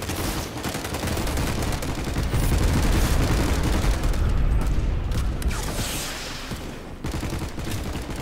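Rapid, continuous gunfire from a weapon in the video game Planetside Arena, a dense burst of shots running the whole stretch with loud, sustained intensity and a slight dip near the end.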